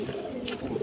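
A male silver pigeon gives a short, soft, low coo, close by, in a brief burst.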